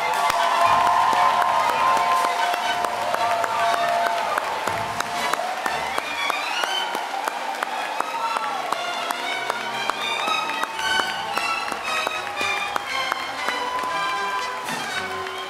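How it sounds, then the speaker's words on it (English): Sustained, loud applause from a graduation ceremony audience cheering high school graduates, a dense wash of clapping that holds steady throughout with scattered louder claps and some crowd noise. "can we get one really, really big, massive round of applause?"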